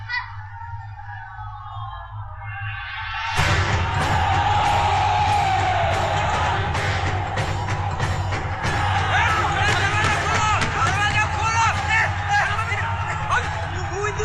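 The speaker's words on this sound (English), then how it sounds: "the crowd is cheering Farzan, Farzan" A stadium crowd roars and cheers during a film's cricket match between India and Pakistan after a huge shot. After a near-silent start, dense loud cheering and whooping sets in and holds steadily to the end.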